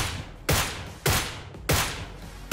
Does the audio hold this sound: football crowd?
no